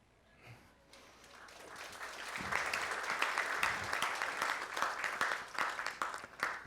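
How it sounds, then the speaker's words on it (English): Audience applause at a tech conference on open-source cloud communications, starting quietly and swelling into steady sustained clapping from a sizable crowd for several seconds. "Big round of applause again for Fikri Firat"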